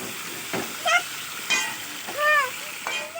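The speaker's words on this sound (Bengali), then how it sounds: "আমি মাংসটাকে ভেজে নিচ্ছি প্রথমে" Meat frying in hot oil for biryani, a continuous soft sizzle with occasional stirring scrapes, while someone talks over it.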